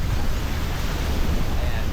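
Ocean waves wash in steadily at high tide beside a beach campsite, a continuous close roar of surf mixed with gusty wind noise on the microphone, with no pauses.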